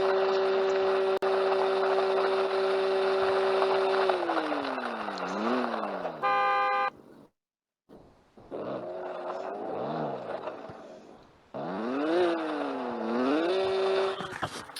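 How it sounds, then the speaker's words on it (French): A video-game car in Roblox, driven over rough terrain, revs with a loud buzzing engine tone that sweeps up and down in pitch, drops out briefly, then climbs again over roughly fifteen seconds. "tu entends le bruit du moteur?"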